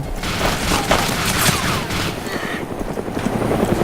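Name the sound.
helicopter flying low and hovering, in video game DayZ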